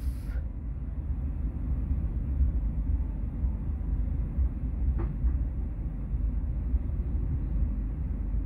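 Inside the Ka Bogowonto passenger train running from Yogyakarta to Jakarta, a steady low rumble of the carriage rolling along the rails fills the whole stretch, with no voices and a faint brief squeak around the middle.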